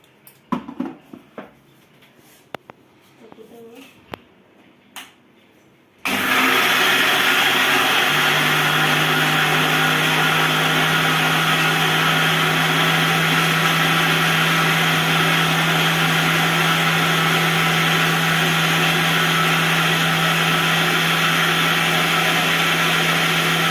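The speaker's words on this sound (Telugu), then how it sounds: "వాటర్ కూడా వేసుకొని మిక్సీ పట్టేసుకుందాం" After a few seconds of quiet handling, a mixer grinder starts up loud and close and runs with a steady whirring roar, blending soaked rice, green chillies and water into batter for watermelon-rind dosa.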